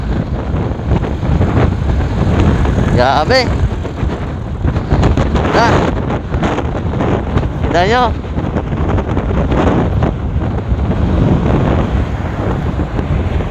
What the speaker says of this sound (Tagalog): nadadala tayo sa lakas ng hangin guys